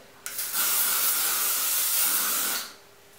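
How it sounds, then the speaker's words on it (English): A single sustained hiss of hairspray sprayed from a can onto a curled hair section lasts about two seconds, close and clear, with no talking. "shake my hairspray and then spray each section as I go"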